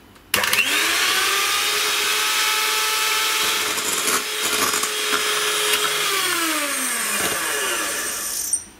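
An electric mixer whips chilled evaporated milk in a mixing bowl, a loud steady motor whine running for several seconds with small shifts in pitch and a brief clatter as it starts.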